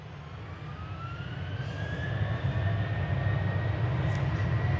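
An airliner departs Manchester Airport, its steady engine roar building slowly and holding loud throughout, with a rising whine layered over a deep rumble.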